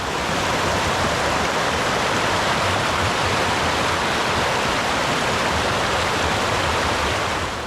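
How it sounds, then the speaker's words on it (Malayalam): A river at Mamalakandam in Kerala rushes over rocks in a loud, steady, close roar of broadband water noise, with no break and no voices. "ശാന്തതയോടെ ഒഴുകി വരുന്ന പുഴ ഈ ഒരു തിട്ട ഇറങ്ങിയാൽ പിന്നെ പാറപ്പുറത്തുകൂടി കുതിച്ചു പായുന്ന കാഴ്ചയാണ് കാണുക"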